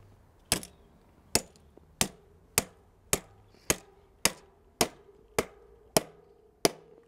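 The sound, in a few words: hammering a star nut into a new bike's fork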